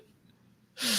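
A single sharp sneeze bursts out loud and close at the very end, following a quiet stretch of faint background noise and breathing during a live chat.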